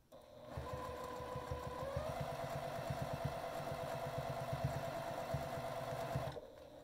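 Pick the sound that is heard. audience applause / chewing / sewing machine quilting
sewing machine quilting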